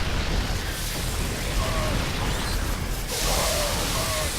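Siege tanks fire and banelings burst in a StarCraft II battle, a dense, loud roar of overlapping explosions and bangs that runs without a break through the whole stretch, with faint game effects on top.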